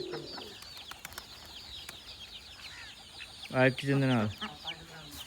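Chickens and a chick cluck on an open-range farm, several short clucks and calls scattered throughout, with one louder, nearer burst of clucking toward the end; a person speaks briefly.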